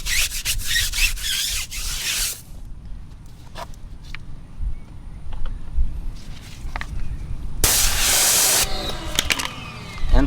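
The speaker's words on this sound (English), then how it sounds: "I didn't spray much as I did with on the wheels, but that foaming is prevalent here." Chemical Guys Diablo wheel gel sprayed onto car tires: several quick, close hissing spray bursts at the start, then quiet rubbing and faint fizzing of foam, followed by one long loud spray blast near the end.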